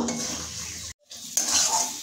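Ground roasted spice masala is stir-fried in a pan with radish, heard as a close sizzle with clinks and scrapes of a utensil against the pan and a brief gap in the middle.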